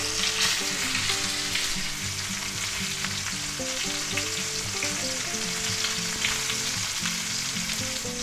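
Chuck roast steaks sear in a hot pan, a continuous close sizzle and crackle of frying that holds steady throughout, with no talking.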